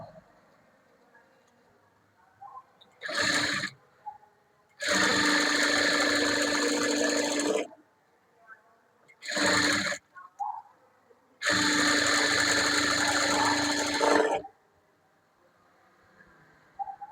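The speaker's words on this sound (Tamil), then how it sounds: "நம்ம இப்போ தைக்கலாம்" Sewing machine stitching a blouse border, with two short bursts and two long runs of steady mechanical whirring separated by quiet pauses, close and loud with no talking.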